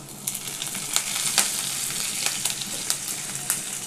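Cinnamon crackles in hot oil while tempering for a village-style country chicken gravy: a continuous sizzle punctuated by sharp popping bursts roughly every half second, close and moderately loud, with no voices.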